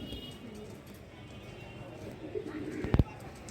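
Soft cooing from a Holland Jacobin pigeon on a pigeon farm, faint and low under a quiet background, with a brief louder burst of noise near the end.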